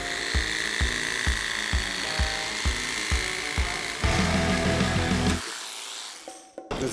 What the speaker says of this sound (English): I think this time, I'm gonna just do it with the jigsaw with a super thin blade.